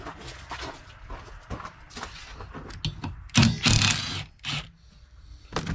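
A ratchet backing off the 15mm nut on a wiper arm of a Ford Escape, heard as a run of close, sharp metallic clicks and clatter with louder bursts in the middle, and no talking.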